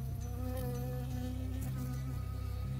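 A bee buzzes in the video game Firewatch, a steady droning hum with a wavering pitch, close and sustained under a low background tone, with no talking.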